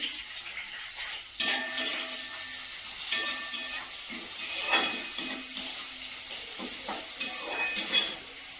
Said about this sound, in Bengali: কড়াই দিয়ে দেবো পেঁয়াজ